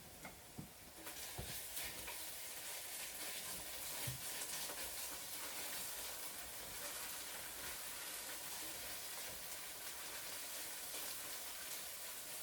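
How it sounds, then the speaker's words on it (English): Bolognese sauce base cooking in a pan, a soft steady sizzle and hiss with a few faint knocks of stirring early on, quiet and continuous without speech. "I'm going to stir that around and make sure that that does not"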